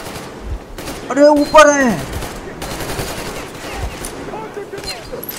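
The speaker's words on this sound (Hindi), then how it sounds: "अरे अरे अरे कहाँ से गोलियाँ आ रही है यार?" Gunfire in the video game Metro Exodus: loud rattling bursts of automatic fire crackle around close by, and someone shouts excitedly over the shooting.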